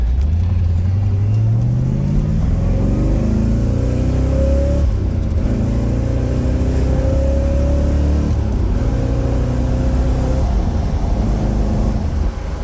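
A 1968 Corvette Convertible engine revs up loudly in first gear, the pitch climbing steadily in several pulls with brief dips between, close and continuous.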